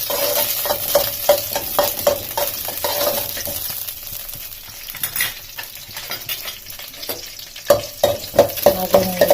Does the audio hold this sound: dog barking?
no